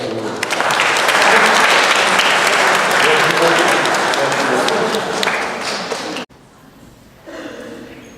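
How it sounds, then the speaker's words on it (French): A crowd claps loudly and steadily for about six seconds, then the applause cuts off abruptly, leaving quieter room murmur and a voice. "Oui, on peut applaudir."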